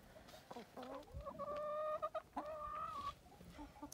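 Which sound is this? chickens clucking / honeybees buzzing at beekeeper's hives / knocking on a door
chickens clucking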